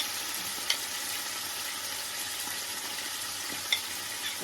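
Shallots stir-frying in a pan for a Thai broccoli stir-fry with pork, a steady close sizzle with two light clicks of a spatula against the pan.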